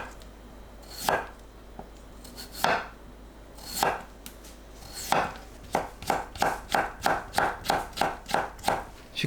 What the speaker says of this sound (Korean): 우위를 5-6cm 길이로 채 썰어주세요.